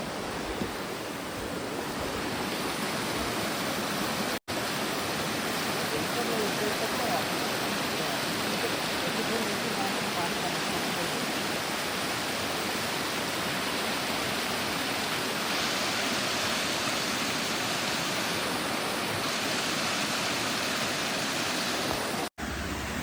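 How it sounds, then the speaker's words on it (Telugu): A roadside forest waterfall on the Sileru route roars during the rain, a loud, continuous rushing of falling water heard close up, broken only by two brief cuts. "రోడ్డు పక్కనే ఈ అందమైన వాటర్ ఫాల్ని చూసి"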